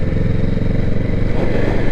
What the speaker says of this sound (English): This bike lacks a little bit of refinement as far as the throttling, that on-off throttle